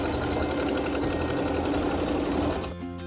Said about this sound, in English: it'll sew a satin stitch